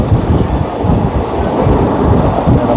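A passenger train runs at full speed on the Jalandhar to Hoshiarpur line, giving a loud, continuous rumble and rattle of wheels and carriages with no voices.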